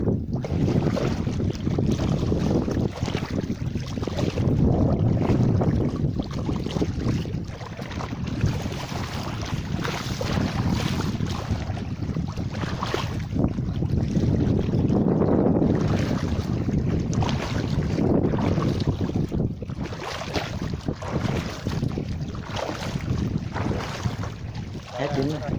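Strong wind buffets the microphone aboard a small boat on the Dong Nai River, a loud continuous roar that swells and eases in gusts, with water noise beneath and no clear talking.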